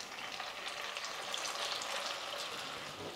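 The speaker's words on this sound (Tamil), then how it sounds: "இப்போ மீதி இருக்கிற காலிஃப்ளவரையும் எண்ணெயில் போட்டு நம்ம பொரிச்சு எடுத்துக்கலாம்." Cauliflower pieces fry in hot oil with a steady, dense sizzle, close and even throughout, with no voices.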